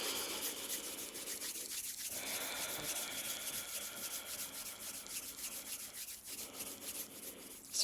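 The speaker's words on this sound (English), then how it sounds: "you can rub your hands together" Hands rub together briskly and steadily, a continuous dry swishing friction with a few brief pauses and shifts in intensity, close by with no talking.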